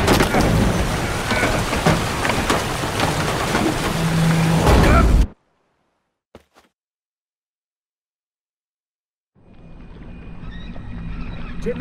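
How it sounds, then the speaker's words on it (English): A rainstorm with thunder from The Witcher 3: Wild Hunt, loud and dense for several seconds with a horse's neigh mixed in. It then cuts to near silence with a single click before faint ambience returns. "Didn't bargain for no storm."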